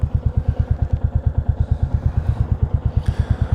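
A Royal Enfield Classic 350 single-cylinder engine runs with an even, loud, close thumping beat that holds steady throughout, with no voices over it.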